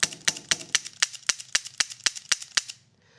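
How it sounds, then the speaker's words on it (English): A Taurus Raging Hunter revolver is dry fired eleven times, each sharp metallic click of the hammer coming at an even, quick pace, close and crisp, with no talking. "we're going to go ahead and turn it over, and we're going to dry fire the gun 6 to 12 times."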